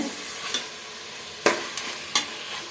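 Chicken gravy masala sautéing in a pan, a soft low sizzle broken by three or four sharp clinks of a spoon scraping and stirring.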